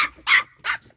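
Puppies give two short, high yappy barks about a third of a second apart, close and clear with quiet between them.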